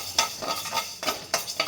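A spoon scrapes and stirs fenugreek seeds and peppercorns dry-roasting in a pan over very low heat, giving five or six crisp rattling strokes at an uneven rhythm, close up and with no talk.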